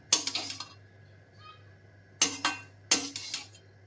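Veg fried rice gets stirred in a pan: three bursts of spatula scrapes and metallic clinks against the pan, close and fairly loud, separated by quiet pauses.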